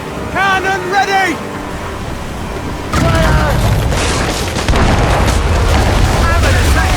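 Ship cannons in Assassin's Creed Rogue fire with a heavy boom and rumbling blast amid wind and water, preceded by shouted commands from the crew.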